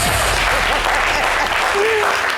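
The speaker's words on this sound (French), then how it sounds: "qu'on demande d'applaudir" A TV studio audience claps and cheers steadily through a short burst of dense applause, with a few voices calling out over it.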